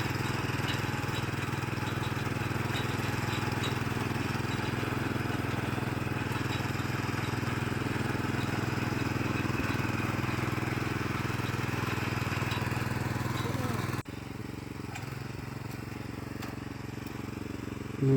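Krisbow cultivator engine running steadily in second gear while tilling already-plowed field soil, a continuous droning motor with rattling tines, fairly close and unbroken, dipping slightly in level near the end.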